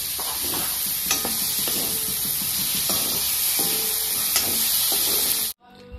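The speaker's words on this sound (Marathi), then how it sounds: "आणि अजून थोडंसं तेल ओतून ह्याला मी चांगलं हलवून घेणार आहे" Steady oil sizzling and hissing as onion and tomato fry, with occasional scraping stirs of a spoon in a pan, close up, cutting off abruptly at the end.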